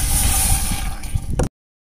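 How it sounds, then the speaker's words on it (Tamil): Four tumblers of water are poured into a pot for a herbal remedy, a loud close splashing gurgle with a bright hiss that runs steadily and then stops abruptly, followed by silence. "முதல்ல 4 டம்ளர் தண்ணி ஊற்றிக்கோங்க."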